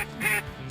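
Ducks quack during a Louisiana duck hunt, a few close, clear calls over the brief moment with no talking.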